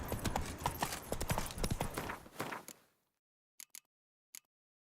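Hoofbeats of a horse galloping in The Witcher 3 video game, a fast loud clip-clop rhythm that cuts off abruptly, followed by a few sparse isolated hoof clicks on their own.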